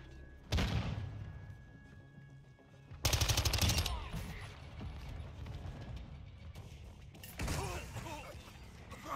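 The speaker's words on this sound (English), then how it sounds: "Our mortar strike is inbound." Mortar strike and gunfire in a video game, with sharp bursts of automatic fire and heavy impacts at about 0.6, 3 and 7.4 seconds over a rumbling battlefield bed.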